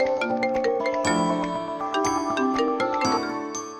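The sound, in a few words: mobile phone ringing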